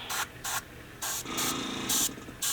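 An airbrush sprays paint in short, sharp hissing bursts, about six of them, with brief pauses between. The bursts sound close and fairly quiet.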